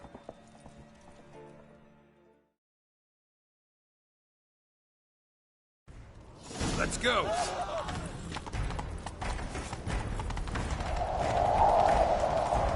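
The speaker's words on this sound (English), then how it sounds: "Grab a horse, we'll chase him down." Horse hooves gallop in The Witcher 3, a fast, loud clip-clop that kicks in after a short silence and keeps driving under shouted game dialogue, with a whinny near the start of the ride.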